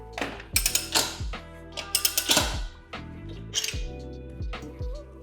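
The ratchet on a Rabaconda motorcycle tire changer clicks in quick repeated bursts while a street bike tire bead is dismounted, close and loud, with short pauses between strokes.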